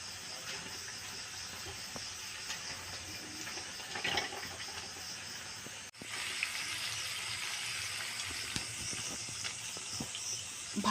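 Pumpkin fritters coated in gram flour batter fry in oil over low heat, giving a steady close hiss and sizzle throughout with a brief dip midway.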